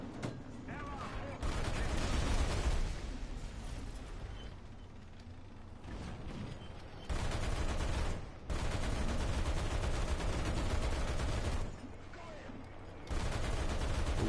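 Gunfire in a World War II-era video game aimed at a German aircraft comes in long, loud, sustained bursts of rapid firing separated by brief quieter gaps, heard close and dense throughout.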